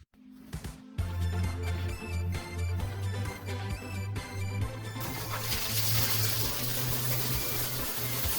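Water from a running shower gushes steadily in a home bathroom after a brief quiet start, broadband and continuous, with a low mechanical hum underneath.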